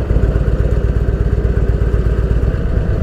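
A 1983 Harley-Davidson Shovelhead FLH80 with 100,000 km on it rumbles loudly while riding on ordinary roads, its engine thumping in a steady, fast, lumpy pulse with wind noise and no talk.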